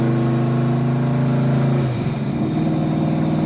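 A 1993 Ford Mustang Fox body built to about 1,000 hp, cruising on the highway in third gear, drones loudly and steadily close up. Its pitch dips briefly near the two-second mark, then the drone settles back in.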